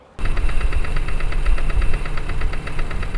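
A Toyota Prius engine starts abruptly and runs with a rough, rattling, knocking idle that keeps a steady rhythmic clatter for about three seconds, loud and close, with no talking.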